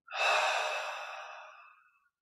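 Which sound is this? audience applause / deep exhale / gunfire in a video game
deep exhale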